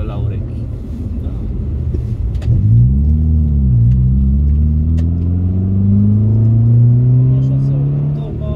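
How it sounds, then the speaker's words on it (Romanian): A Subaru Impreza 2.0i R with all-wheel drive revs up close, its exhaust rising from a deep rumble into a swelling, sustained drone, dipping once before climbing again; a voice talks faintly underneath. "Așa se aude toba."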